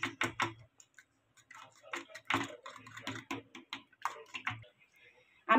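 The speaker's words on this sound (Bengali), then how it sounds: "ভালো করে ফেটিয়ে নিচ্ছি ডিমগুলো।" Eggs being whisked in a bowl for Bengali-style egg devils, heard as quick, close clicking taps in irregular bursts separated by short quiet gaps.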